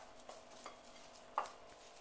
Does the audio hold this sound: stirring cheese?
yes